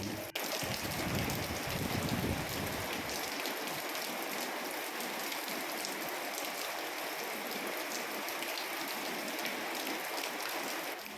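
Steady, dense rainfall hisses across the whole stretch, an even wash of drops with a brief heavier patch near the start and no voices.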